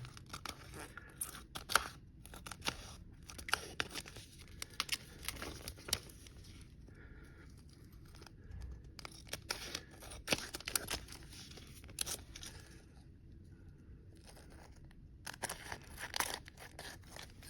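Scissors snip through photo transfer paper around a photo, leaving a narrow border, in a steady series of short crisp cuts and crinkles at close range, fairly quiet, with no talking.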